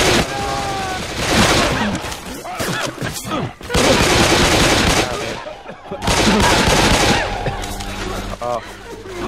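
Chaotic gunfire between survivors in Left 4 Dead 2, a loud dense stretch of shots and crashes in long bursts with brief gaps, mixed with game noise and people talking over it.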